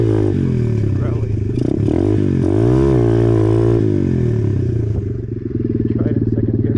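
A pit bike's small motorcycle engine revs hard on a gravelly parking lot, the loud close pitch climbing and sweeping as the throttle opens and drops, then settling into a steady buzzing idle-like drone.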